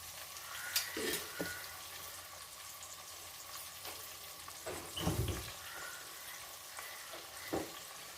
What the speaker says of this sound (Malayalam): ഇളക്കി വഴട്ടിയെടുക്കണം